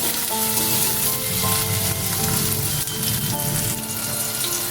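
Chopped tomato drops into onions already frying in a pan, giving a loud, steady sizzle and crackle that holds throughout with no voices.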